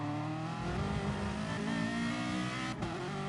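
Race car engine in Gran Turismo Sport, a Ferrari F40 accelerating out of a corner onto a long straight, a steady loud droning roar with a brief dip near the end, no talk.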